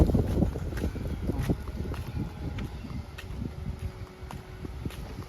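Strong wind buffets the microphone in heavy, irregular gusts beside a rice field, a loud low roar with rattling bursts and no voices.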